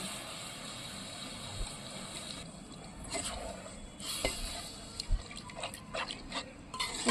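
Water poured into a pot of tamarind curry simmering on a wood-fired stove, giving soft splashes and trickles with a few sharper clinks, moderately close and steady, with no talking.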